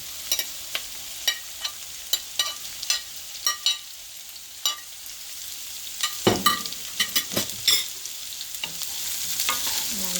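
Broccoli, capsicum and baby corn stir-fried in a pan: sharp scraping clatters of a utensil against the pan in irregular strokes over a steady sizzle, busier and louder toward the end.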